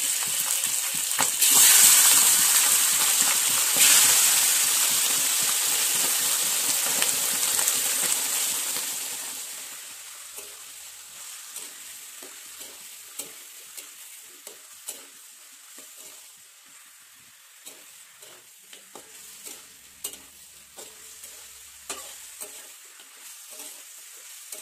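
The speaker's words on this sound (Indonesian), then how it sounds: "kemudian masukkan daging itiknya." Duck meat fries with fragrant spice paste in a pan: a loud hissing sizzle at first that settles into a quieter crackle with scattered stirring scrapes and pops, no voices.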